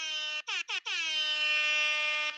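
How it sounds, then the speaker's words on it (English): An air horn blares as a four-bet alert during a poker broadcast, sounding three short blasts and then one long sustained blast, loud and alone. "the four-bet alert was a little louder last time"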